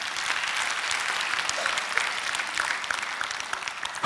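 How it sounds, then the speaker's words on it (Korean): An audience at a church service gives a steady round of applause, many hands clapping in a dense, even roar throughout, ending in a brief louder burst. "박수 한번 보내드려요."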